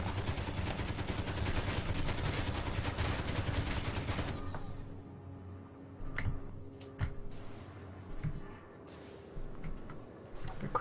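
Bullets fired at a spaceship in Space Engineers: a loud, dense burst of rapid gunfire runs for about four seconds, then drops away to scattered faint clicks and ticks.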